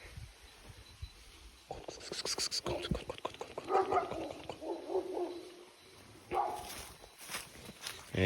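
Dogs barking in bursts outdoors, mixed with rustling, footsteps and low voices, moderately distant and irregular.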